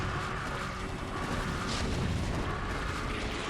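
Siege tanks firing in StarCraft while Hydras push downhill: a dense, continuous rumble of overlapping booms and blasts fills the whole stretch, steady and loud with no pause.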